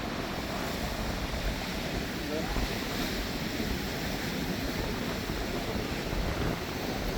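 Rough, stormy sea surf at Varkala beach in Kerala roars as a continuous broadband wash, loud and unbroken, with wind buffeting the microphone.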